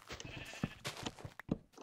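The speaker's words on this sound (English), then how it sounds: "I found the plains with mini sheep." Minecraft sheep on a plains biome bleat several times in short, close calls over a quiet background with no speech.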